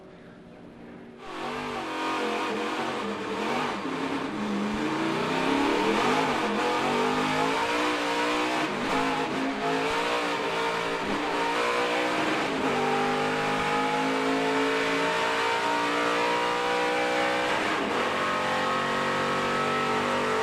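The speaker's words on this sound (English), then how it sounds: "Sean Sauter getting up through the gears." A roughly 700-horsepower NASCAR Truck Series race truck in qualifying at Kansas Speedway launches and climbs through the gears. A loud, sustained engine roar rises in pitch with each shift and holds near full throttle, without talking.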